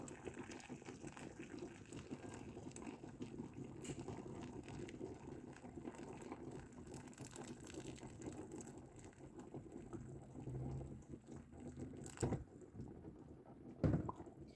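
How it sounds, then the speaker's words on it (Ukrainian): Boiling water is poured into a pot of pork stew that has simmered for hours, giving a quiet gushing, trickling wash with faint clinks and a couple of sharper knocks near the end. "І зараз ми піділіємо водичку, кипяток."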